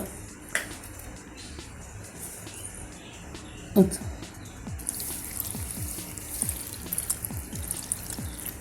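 Water pours in with a steady rushing hiss for the second half, after some light clinks and drips, while making curry leaf juice.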